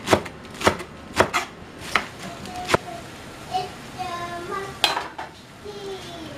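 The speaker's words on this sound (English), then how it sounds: "I'll chop all of that" A knife chops vegetables on a cutting board in several sharp, separate strikes, followed by light clinks of dishes and utensils close by.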